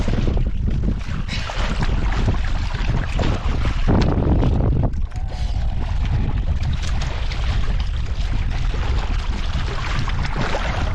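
Strong northeast monsoon wind roars continuously against the microphone at sea, with gusty buffeting and water sloshing around a boat, no voices.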